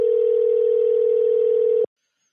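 A steady telephone dial tone holds loud and constant for nearly two seconds, then cuts off abruptly into silence.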